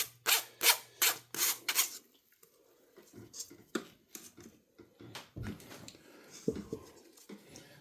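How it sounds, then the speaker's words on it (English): Cooked potatoes pressed and rubbed through a strainer into flour for homemade doughnut dough, heard close up as rhythmic rasping strokes that are loud for the first two seconds, then softer, scattered scraping. "pushing it through this strainer helps it incorporate into the flour"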